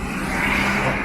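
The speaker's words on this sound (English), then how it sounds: "Lots of people on these quad bikes" Quad bikes driving past on a street in Sidari, Corfu, a loud close engine drone that swells briefly as they go by.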